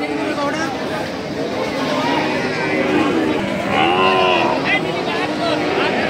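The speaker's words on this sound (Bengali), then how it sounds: "এই সাইডে ফ্রিজিয়ান ষাড় বাছুর" At a busy cattle market, a Friesian bull calf lets out drawn-out, wavering moos close by, rising over the surrounding crowd chatter and background voices.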